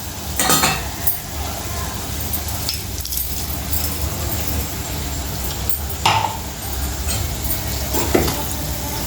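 Ground spice powders frying with potato curry in a pan, a continuous close sizzle broken by several stirring scrapes and clinks of a utensil against the pan.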